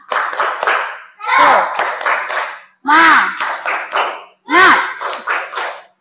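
Schoolchildren in an Indonesian classroom perform the "tepuk semangat" clapping chant, bursts of sharp group claps in a patterned rhythm alternating with shouted chanting voices, loud and close.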